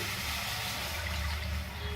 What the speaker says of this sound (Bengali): কড়াইয়ের মধ্যে দিয়ে দিচ্ছি জল